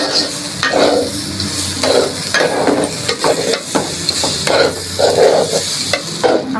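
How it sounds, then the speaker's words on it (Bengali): Polao rice being stirred and lightly fried in oil in a pan, kept pale rather than browned, with a steady sizzle and repeated scraping stir strokes close by, no voices. "আমি বেশি সময় ভাজি নেই, 3 মিনিট চাল ভেজে নিয়েছি"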